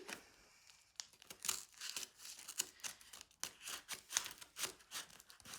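A knife slices open a cardboard package in a series of close, scratchy tearing and crinkling strokes, uneven in rhythm, with no voices.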